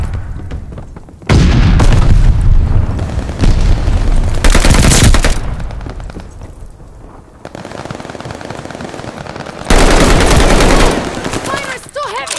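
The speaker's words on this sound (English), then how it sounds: "Fire is still heavy." Heavy, sustained machine-gun fire and booming blasts from a Call of Duty: Vanguard match, loud and dense throughout with brief dips in intensity between intense volleys.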